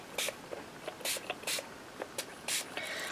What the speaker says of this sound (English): I'm going to start off with my Faded Jeans Distress Oxide ink, and I'm just going to spritz my background.